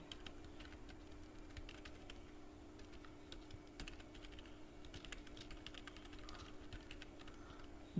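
Someone types a blog post heading on a computer keyboard: a steady stream of soft, close key clicks over a faint constant hum, continuing for about eight seconds.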